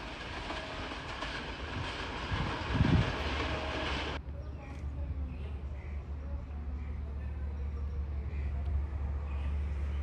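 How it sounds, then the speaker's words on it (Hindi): 47 Up Rehman Baba Express train passes through Haripur Band railway station at speed, a loud rushing roar with wheel clatter that cuts off abruptly and leaves a low steady rumble and faint background. "हरीपुर बांध रेलवे स्टेशन से पास थ्रू कर रही है 47 अप रहमान बाबा एक्सप्रेस"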